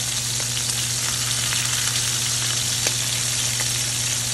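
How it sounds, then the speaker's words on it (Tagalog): A kitchen exhaust fan runs with a constant steady drone and low hum while food fries beneath it, a dense even sizzle with a few faint ticks, close and fairly loud. "Medyo maingay dahil sinindihan ko yung ating exhaust."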